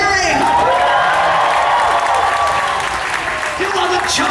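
A large crowd at Star Wars Weekends 2014 at Disney applauds and cheers continuously, loud and dense throughout, with a voice on a sound system carrying over the noise.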